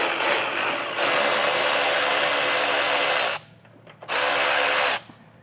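A power tool spins out exhaust hanger bolts on a 2023 Jeep Grand Cherokee in two loud, close bursts, the first long and sustained, the second shorter after a brief pause.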